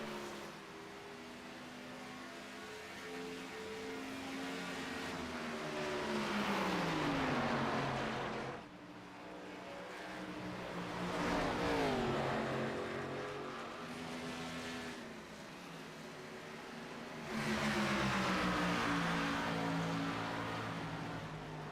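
Xfinity Series race cars in the iRacing sim at Darlington roar past one after another, their engine notes rising and then sweeping down in pitch with each pass, loud and continuous.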